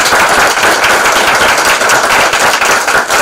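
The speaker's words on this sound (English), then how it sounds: "And especially a round of applause to all of the staff and the volunteers that came out" Audience applause at a congressional district candidate forum, honoring candidates, staff and volunteers: dense, steady clapping from a room full of people, loud and continuous throughout with no voices over it.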